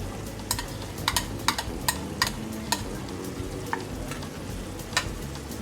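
Ghee-roasted prawns tossed into fried masala in a pan for Mangalorean-style prawn ghee roast, with a steady low sizzle and scattered sharp clicks and scrapes of stirring, close and moderately loud with no talking.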